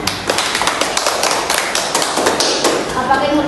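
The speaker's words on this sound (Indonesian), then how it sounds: "Beri aplaus untuk Putri" Students clapping in a classroom for a classmate: a short burst of quick, close, uneven claps with some shuffling and a voice speaking over it.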